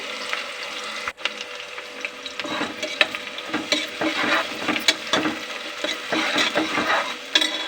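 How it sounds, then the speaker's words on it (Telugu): Chopped onions and green chilies fry in hot oil with fenugreek seeds in a pan. The sizzle is continuous and close, broken by irregular scraping and stirring clatter from a spatula, with no speech. "ముందుగా కట్ చేసుకున్న ఉల్లిగడ్డలు, పచ్చిమిర్చి ఎర్రగా అయ్యేలాగా వేయించుకోవాలి."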